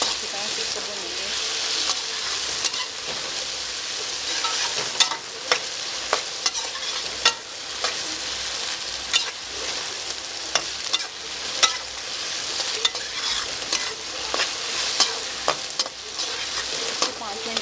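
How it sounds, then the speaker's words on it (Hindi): Green chillies, garlic and ginger frying in hot oil while being stirred, a dense continuous sizzle punctuated by regular sharp clicks of a spoon against the pan, close and fairly loud. "ये हम इसके अंदर ऐड कर देंगे और इसको चलाएँगे, अच्छी तरह से इसको भूनेंगे।"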